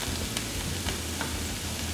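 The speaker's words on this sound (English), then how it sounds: "green peppers, onions, and garlic is their sofrito. And we are going to fry this up." Green peppers, onions and garlic fry together as a Cuban sofrito for black beans, giving a steady, close sizzle with light crackle that holds even throughout, with no talking.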